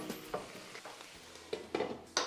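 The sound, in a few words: stirring food in a pot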